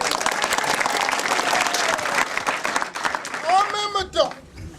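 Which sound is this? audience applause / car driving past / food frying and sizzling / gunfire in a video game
audience applause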